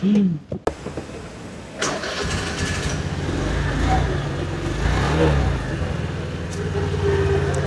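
Small 48cc Japanese import motorbike cranked over with a few sharp bursts, then catching and settling into a steady buzzing idle with slight revs, heard close up.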